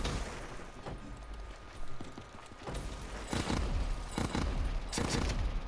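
Bursts of gunfire from a three-round-burst weapon in Call of Duty: Black Ops III, several sharp cracking volleys spaced through the clip that grow louder toward the end, over a background of game noise.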